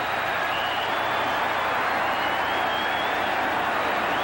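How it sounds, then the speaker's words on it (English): Seattle Seahawks fans roaring through an organized stadium cheer in 1983, a dense, steady wall of crowd noise with a rising swell, loud and sustained throughout. "This is a traditional type of cheer that they do, and maybe the best organized cheer in the National Football League"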